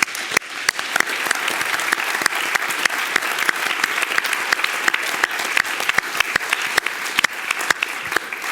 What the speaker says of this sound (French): qu'on les applaudisse